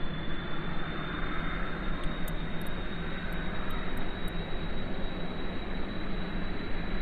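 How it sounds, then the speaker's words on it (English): Mk1 aircraft jet engines at full throttle during takeoff in the Kerbal Space Program video game, a loud steady roar with a high whine held throughout and no talk over it. "I'm going to go ahead and throttle up to full and activate the engines"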